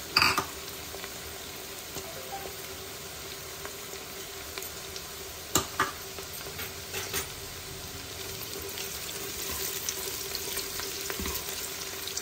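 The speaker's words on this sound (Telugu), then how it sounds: "ఉల్లిపాయలు ఇలా వేగుతున్నాయండి." Onions and green chillies fry in a pan for a pulao, a steady close sizzle running throughout with occasional stirring clicks and clatters, and no talk.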